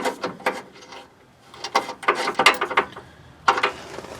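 A socket wrench ratcheting a lock nut onto a bolt during a Nissan Titan transmission mount replacement, close bursts of quick clicking in short, uneven strokes with brief pauses.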